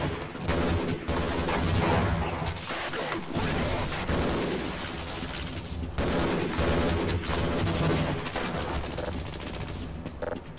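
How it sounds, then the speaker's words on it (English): Dense, continuous bursts of gunfire in Half-Life: Blue Shift, with rapid volleys and sharp cracks, loud throughout, with faint talk mixed underneath. "I hear a little bit of gunfire as well, still."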